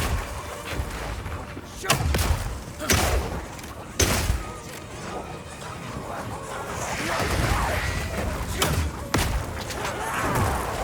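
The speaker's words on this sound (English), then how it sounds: "Firing one of these grenades coats the ground and nearby enemies in oil." Oil grenades fired by the Mercenary class in the video game Path of Exile 2 land as several dull, heavy thumps and bursts, spaced a second or more apart, over continuous rumbling game ambience.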